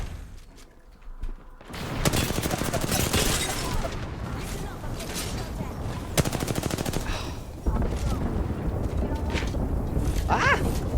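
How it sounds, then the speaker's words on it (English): A grenade and gunfire barrage in the Apex Legends video game: dense, rapid automatic fire in continuous bursts with sharp impacts and occasional heavier blasts, loud and close, with voices briefly audible in the mix. "Grenade deployed. Already on my mark. Firing for effect."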